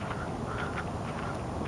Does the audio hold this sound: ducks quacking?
yes